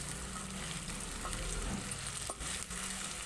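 Onion, garlic and ginger frying in a pan for a Bihari chicken curry, a steady close sizzle with soft scraping stirs and a couple of brief utensil knocks.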